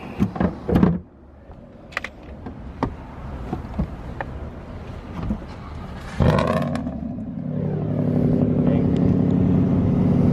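A car engine on a dealer's lot starts, then revs and holds a loud, steady drone, preceded by scattered clicks and thumps from handling parts nearby.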